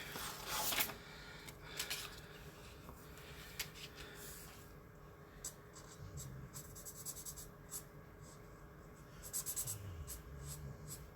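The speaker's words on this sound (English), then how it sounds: "once I draw on all the lines for Bert, I think he'll look great" Marker drawing lines on window art of Mary Poppins and Bert, repeated short scratchy squeaking strokes in quick bursts, close and fairly quiet, with light background voice at times.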